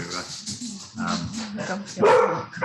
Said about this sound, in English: our doorbell's just gone and the dog's barking